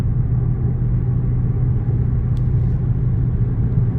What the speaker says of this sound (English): Here we are, going down the road.